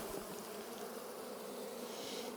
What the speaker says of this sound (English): And shake these bees into this little tote right here